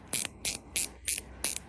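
Dive watch bezel turned in short bursts, giving five crisp ratchet-click runs at a steady rhythm, close up and alone in a quiet room.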